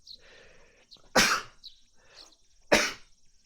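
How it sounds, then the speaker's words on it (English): Two sharp, loud sneezes burst out about a second and a half apart, with soft breathy sounds and quiet background between them. "Had to sneeze."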